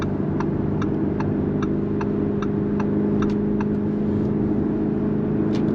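A Lamborghini SUV engine holds a steady, loud low drone close by, with a regular ticking pattern running over it and no clear rise in pitch.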